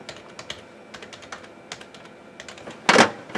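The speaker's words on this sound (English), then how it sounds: "I'll plug my keyboard back in so I can actually type." Keystrokes clatter on a computer keyboard plugged into a Windows ME PC, a quick irregular run of light clicks, then a louder burst of several hard presses near the end.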